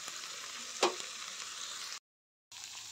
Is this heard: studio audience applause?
no